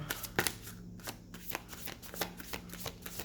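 A deck of spirit cards is shuffled by hand in quick, soft riffling bursts and light slaps, close and fairly quiet, with no talking.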